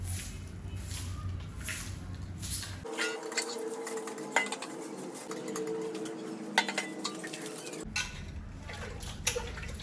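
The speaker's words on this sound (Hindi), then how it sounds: "बर्तन धो रही हूँ" Dishes, pots and utensils washed by hand in a home, with steady close clinking and clattering against running water and faint birdsong in the background.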